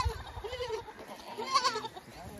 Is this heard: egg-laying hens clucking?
no